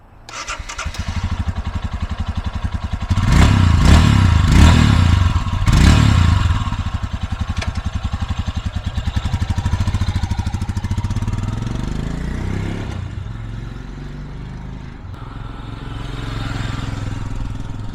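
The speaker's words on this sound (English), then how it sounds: "I'll give it a couple revs for you and then take a couple laps" A 2023 Royal Enfield Himalayan single-cylinder motorcycle engine idles with a lumpy thump, then revs up sharply a couple of times before settling back to a steady idle.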